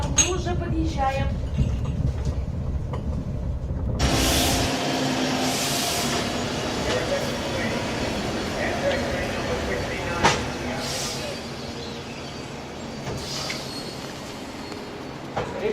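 Train wheels clatter and rumble steadily on the rails, with occasional squeals, a broad continuous noise that starts after a few seconds of quieter cabin sound and carries on under faint voices.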